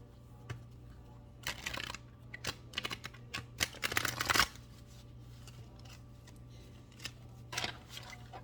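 Tarot cards being shuffled in several quick riffling bursts, crisp and close, with short pauses between them over a faint steady background hum.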